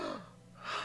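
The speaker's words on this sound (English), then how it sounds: "Sounds like he's breathing pretty deeply to me." Deep breaths in a Steins;Gate 0 visual novel scene, a sharp close inhale followed by a slower breath, quiet and without speech.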